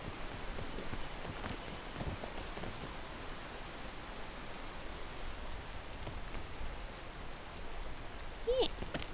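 Steady rain in the tropics area of the video game Peak makes an even, close hiss with scattered drop ticks throughout, and a brief louder patter comes near the end.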